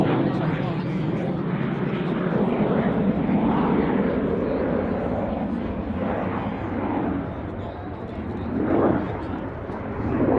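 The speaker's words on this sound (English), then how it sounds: "And here it is, the Dassault Rafale C." A Dassault Rafale C fighter jet flying a display at an airshow, its engine roar steady and loud throughout, with surges in intensity as it passes.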